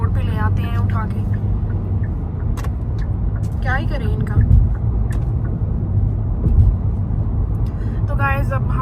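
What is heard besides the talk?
car driving on the road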